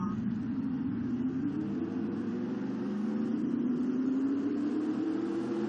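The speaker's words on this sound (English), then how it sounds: "Joltis, start your engines!" Engines of race cars in a NASCAR video game race at night, a steady droning roar with a slowly rising pitch throughout, continuous and moderately loud with no talking.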